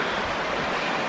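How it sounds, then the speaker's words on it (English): A river flowing beside a woodland path on a sunny morning near Minster Woods, Boscastle, giving a steady broadband rush of water, fairly loud and continuous. "So I'm just following the river along now,"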